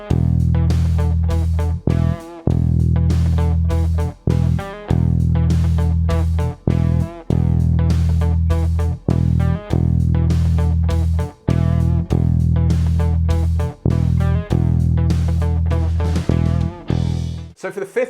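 Bass guitar notes played with a backing track in a beginner lesson: deep, sustained low notes in steady phrases with short gaps, over a loud drum-and-music accompaniment, no one talking.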